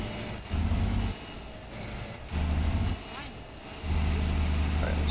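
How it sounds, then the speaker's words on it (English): Heavy truck engine in a driving game, a low rumbling drone that swells and eases in repeated bursts as the throttle rises and falls, with speech faintly present around it. "This truck is going to sound so much better when I put the V8 in it."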